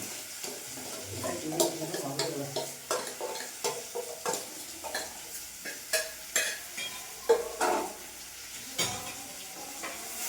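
Mango pieces for an instant pickle fry in ghee while a spoon stirs them: close, rhythmic scraping strokes about once a second over a soft, steady sizzle.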